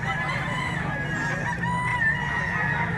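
A big red bullstag rooster crows repeatedly at a crowded live-poultry market in Mantalungon, Cebu, with other fowl clucking around it and a busy market din underneath.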